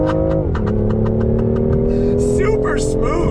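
A 2019 BMW i8 Roadster on a racetrack, its engine droning steadily with a rising pitch as it accelerates, heard from inside the car with someone talking over it.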